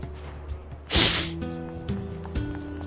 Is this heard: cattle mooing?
no